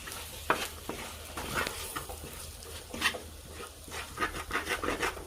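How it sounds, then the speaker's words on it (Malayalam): Ground turmeric and pepper fry in a pan for a Kottayam-style catfish head curry, with a soft sizzle and repeated scraping stirs at a low, close level. "ചെറിയ രീതിയിൽ ഒന്ന് മൂപ്പിച്ചെടുക്കുക."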